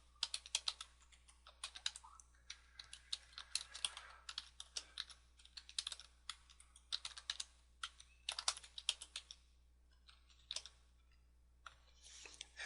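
Typing on a computer keyboard while entering a link in WordPress, bursts of close, crisp key clicks in irregular runs with short pauses, alone without talk.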